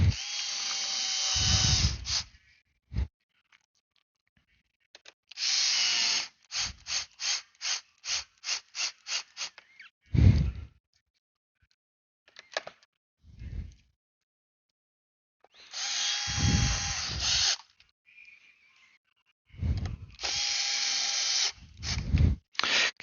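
Power driver snugging metal screws into a plastic bidet during a circuit board repair, short whirring bursts and rapid stuttering pulses separated by pauses, close and clear with no talk.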